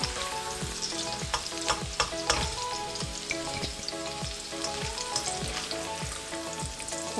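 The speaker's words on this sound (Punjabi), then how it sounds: "ਆਲੂ ਨੂੰ ਇੱਕ ਦੋ ਦੋ ਤਿੰਨ ਮਿੰਟ ਆਪਾਂ ਫਰਾਈ ਕਰ ਲੈਣੇ ਹਾਂ ਇਸਨੂੰ" Potato pieces fry in hot oil in a kadai with a continuous loud sizzle, while a spoon scrapes and stirs in repeated strokes; no voices.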